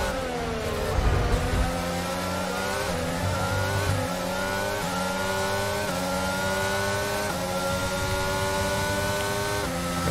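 A Ferrari Formula 1 car in the F1 2022 racing game at the French Grand Prix screams past, its high-pitched engine note climbing steadily through upshifts with no pause, loud and continuous for the whole stretch and with no voices.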